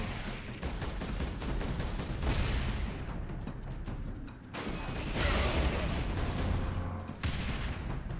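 Cannon fire rattles through a battle in Space Marine Anniversary Edition, with rapid bursts of heavy shots and mechanical clatter in uneven waves, loud and close, broken by a few brief lulls.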